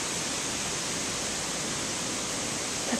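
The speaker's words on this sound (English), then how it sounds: "That's the wind blowing through the leaves." On a windy morning, wind rushes steadily through tree leaves as a dense, continuous broadband hiss, fairly loud and unbroken, with no voices.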